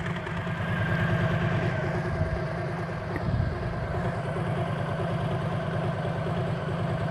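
A de-catted motorcycle with Vance & Hines Slasher slip-on exhausts and Screaming Eagle parts idles close by, a loud, loping low-frequency beat with an uneven rhythmic chop that runs steadily, rising slightly around the middle, no talking.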